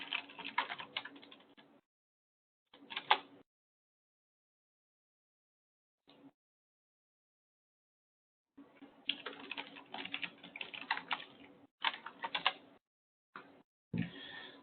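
Computer keyboard typing and mouse clicks, quiet close clatter in bursts separated by silent gaps, with a longer flurry of keystrokes near the end and no speech.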